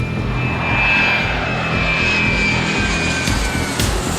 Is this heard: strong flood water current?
no